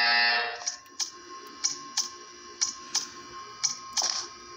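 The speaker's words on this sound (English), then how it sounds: "You will hear a buzzer. When you hear the buzzer, stare at the art." A buzzer in the video game Portal 2 sounds in a series of short, evenly spaced bright bursts, about eight in total, fairly clear and moderately loud, with no talking.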